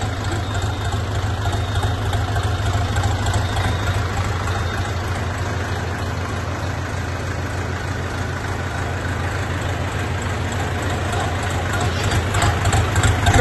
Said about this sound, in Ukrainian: Мотор трактора.